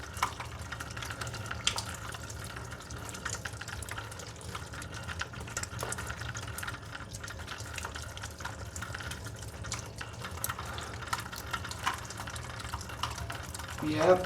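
Water runs steadily from a rust-filled pipe, a continuous gushing and spattering flow with occasional drips and clanks, heard close throughout the whole stretch.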